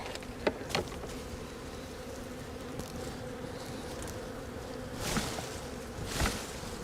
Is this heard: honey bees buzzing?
yes